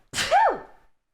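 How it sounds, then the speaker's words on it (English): A single sharp human sneeze, loud and close, with a breathy burst rising into a brief voiced tone that falls away within a second. "I start sneezing"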